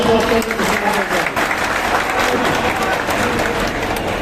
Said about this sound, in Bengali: সবার জন্য আমরা একটা তালি দিয়ে